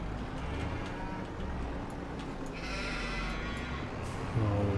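Sheep bleating inside the farming game Farming Simulator 25, a few soft calls that stay faint beneath a steady hum of game ambience, with a louder burst of noise near the end.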